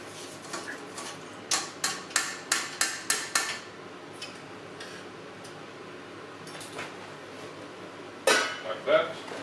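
A spoon strikes the rim of a cooking pot in a rapid run of sharp metallic clinks while rice goes in, with a few scattered clatters and a final louder knock in a quiet kitchen.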